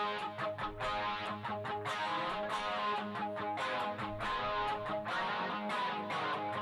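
Electric guitar through a BOSS ME-90 multi-effects unit on its overtone distortion setting, playing a run of distorted strummed chords with rich, buzzy harmonics and short gaps between strokes, close and moderately loud.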